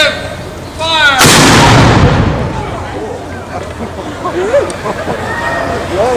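One deep, loud cannon blast from a 21-gun salute booms out and rumbles away over a few seconds, with a crowd murmuring and people talking before and after.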